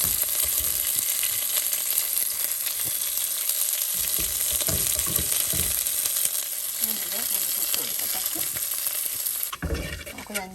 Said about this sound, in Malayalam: നമുക്കൊരു 5 മിനിറ്റ് ഒന്ന് നന്നായിട്ട് ഇങ്ങനെ ഇളക്കി കൊടുത്താൽ മതി.